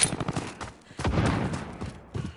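Gunfire in a fast shooter video game, bursts of rapid shots in quick clusters, fairly close and loud, with brief gaps between volleys.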